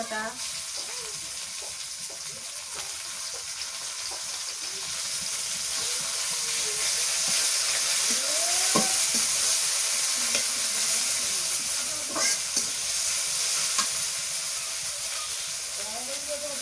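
Ginger-garlic paste and green chillies frying in oil in a pan for a fish and new potato curry, a steady close sizzle and hiss that swells midway, with faint scraping stirs.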